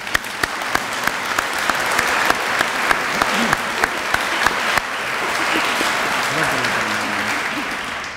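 A room full of people at a student government address claps loudly and steadily for several seconds, with a few sharp louder claps standing out. Some voices come in as the applause tapers off.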